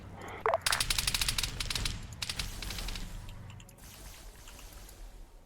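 Rapid bursts of automatic gunfire from the video game Arma 3 in a Halo-themed Covenant Elite operation, crackling loudly in quick volleys for a couple of seconds before trailing off into a quieter rumble.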